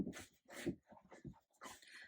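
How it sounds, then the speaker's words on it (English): A puppy whimpers and lets out several sharp yips and barks in quick bursts, close and loud, with short pauses between the cries. "I have a puppy and she's really, really loud today."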